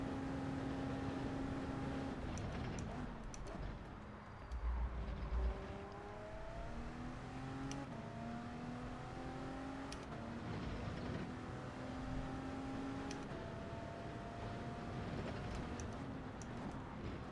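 A car engine in the Gran Turismo 7 racing game on PS4 revs up through a series of gear changes, its pitch climbing and dropping repeatedly in a smooth, moderately quiet drone with no talking.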